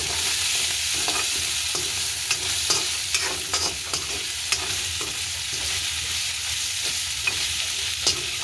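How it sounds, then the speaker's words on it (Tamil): Dried fish fries with garlic in a pan while it is stirred. A continuous sizzle is broken by repeated scraping strokes of the spatula, close and fairly loud, with no talking. "சேர்த்து கிளறி விடுவோம்."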